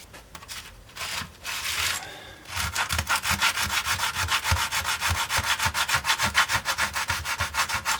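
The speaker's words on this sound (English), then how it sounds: "Now I might come back with some sandpaper." Sandpaper smooths the edges of wooden guitar top braces, starting with a few irregular scrapes and settling into rapid, even back-and-forth rubbing strokes, close and clear.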